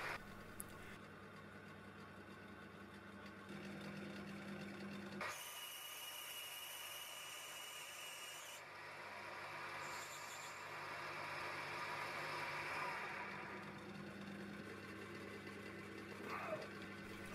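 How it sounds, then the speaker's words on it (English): A lathe running under power at slow back-gear speed while a tailstock-held die cuts a thread on a custom electric guitar part, a steady mechanical hum and whir with a shift in tone partway through. "I'm running the lathe under power so the die is drawn onto the work to cut the thread"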